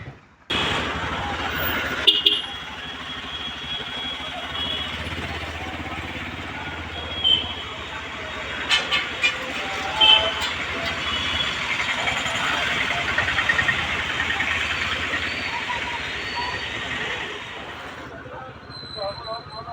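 Motorbike riding through crowded town traffic near a busy market, a steady rushing roar of engine and wind that lasts throughout, with a few brief louder bumps and passing sounds on top.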